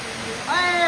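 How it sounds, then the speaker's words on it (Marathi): Heavy rain pours down steadily in a close, dense roar during the first big downpour of the year around a house, with a brief voice partly overlapping it. "धो धो धो धो धो धो पाऊस चालू झालाय"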